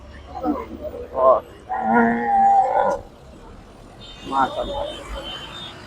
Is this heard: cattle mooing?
yes